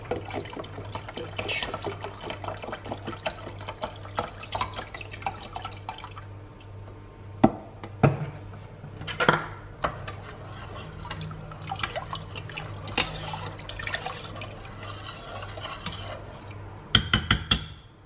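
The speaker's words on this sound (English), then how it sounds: "you're gonna use the entire container of broth" Chicken broth, about a liter from a container, is poured into a soup pot in a kitchen. The liquid gurgles and splashes softly over a low hum, with a few drips and clinks near the end.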